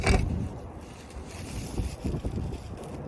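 Gusty outdoor wind buffets the microphone in uneven rumbling bursts, strongest at the start and swelling again later.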